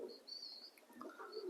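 Satin pigeons in a breeding loft give soft, low cooing with a few higher chirps over about a second and a half, fairly close but quiet, with no talk.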